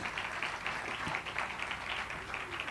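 Faint, distant applause from an audience at a launch event, steady soft clapping spread across the whole moment with little else above it.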